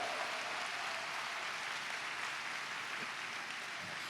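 A church congregation applauds together, a dense steady wash of clapping that holds at an even level from start to finish, with no talking.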